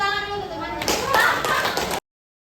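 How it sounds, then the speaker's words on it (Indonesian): Classroom of young pupils clapping for a classmate, a dense burst of many small hands that swells midway and stops abruptly, with children's voices and a teacher mixed underneath. "Beri tepuk tangan dulu untuk temannya."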